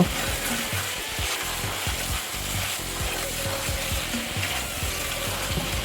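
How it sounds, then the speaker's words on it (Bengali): Mutton liver fries in a pan with spices and ginger-garlic paste, hissing and sizzling steadily while a utensil scrapes and stirs in a regular rhythm, close and clear, with no voices. "খুব ভালো করে কষিয়ে নিচ্ছি।"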